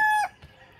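A rooster, one of three chickens being transported to Mariveles, Bataan, lets out a single loud, close crow that is cut off abruptly after a fraction of a second, leaving near-quiet.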